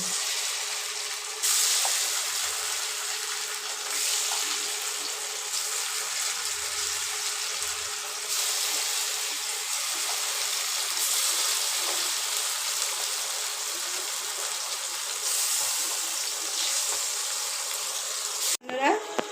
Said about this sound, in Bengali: এবার চিকেনগুলোকে একটা একটা করে ভেজে নেব।